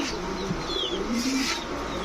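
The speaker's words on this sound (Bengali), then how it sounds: "কবুতর দেখেন, কবুতরের চোখ দেখেন" Pigeons at a street pigeon seller's stall give soft, low coos in a steady murmur, with a few faint chirps and no clear voice over them.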